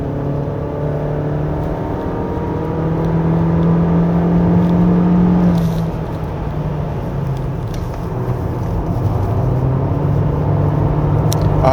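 A 2024 Honda Accord with a 1.5 turbo engine accelerates along a winding road, its engine drone loud and continuous inside the cabin. The tone climbs, drops suddenly around the middle as if shifting, then holds steady, with no talking.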